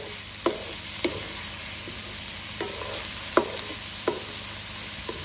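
Chopped garlic sizzling in hot oil in a pan, with a steady soft frying hiss broken by sharp, sparse pops and crackles spaced about a second apart, close and quiet with no talking.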